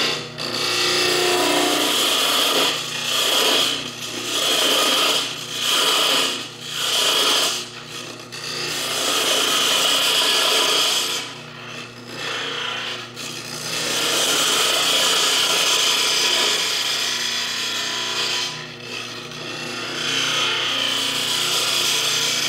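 Gouge cutting wood from a spinning finial on a lathe, a steady rasping, scraping shave that runs nearly continuously, close and loud, with brief pauses and dips as the tool lifts away.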